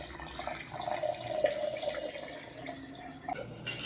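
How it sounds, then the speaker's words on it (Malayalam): A thin stream of water pours and trickles into a container of lemon juice and sugar for lemonade, running steadily at moderate volume without any talking. "വെള്ളം കൂടി ചേർത്ത് കൊടുക്കാം"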